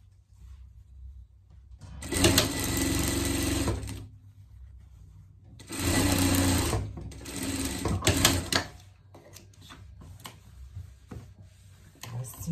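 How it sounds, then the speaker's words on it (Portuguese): A sewing machine stitches a pet parka in two loud sustained runs of rapid whirring, each a couple of seconds long, separated by quieter pauses with faint handling sounds and a voice speaking softly. "E costura aqui essa parte aqui."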